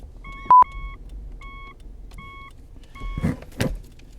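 A car backs up to a series of evenly spaced electronic reversing beeps, four or five in a row, with a sharp click near the start and a couple of soft thumps toward the end.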